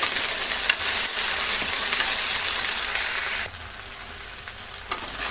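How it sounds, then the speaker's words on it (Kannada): Cut okra (ladies finger) frying in a pan for gojju, a dense steady hiss of sizzling oil close up, with light stirring scrapes and a slight drop in intensity partway through. "ಈ ಬೆಂಡೆಕಾಯಿ ಚೆನ್ನಾಗಿ ಫ್ರೈ ಆಗಬೇಕಾಗತ್ತೆ."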